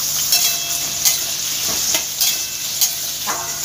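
Small diced potatoes fry with a constant sizzle in a pan over turned-up heat for a chickpea dish. A utensil stirs and scrapes them in several distinct strokes, up close and with no talking.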